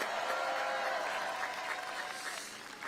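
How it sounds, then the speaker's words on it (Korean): Sustained applause from a large crowd at a political campaign rally, a dense, steady clatter of many hands clapping that stays loud throughout and tapers slightly toward the end. "박수 한번 부탁드립니다."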